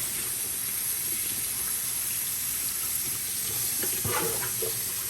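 Water runs steadily from a tap, rinsing a part of a Miele CM6150 coffee machine during descaling, a constant hiss with a few splashy bursts near the end and no talking.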